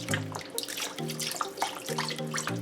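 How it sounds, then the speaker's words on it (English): Lemon juice poured from a container over six pounds of raw oxtail in a kitchen gives a soft, steady liquid trickle and splash, quiet and close, with faint background noise. "I pour on the lemon juice."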